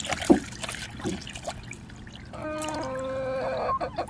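Water trickles steadily from a sink tap set out for chickens to drink, a thin continuous stream lasting a few seconds, with a few faint bird chirps and scattered clicks before it.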